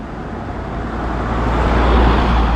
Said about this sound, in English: There's a car coming. Stand to the side a second.